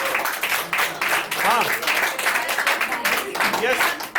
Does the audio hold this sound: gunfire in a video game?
no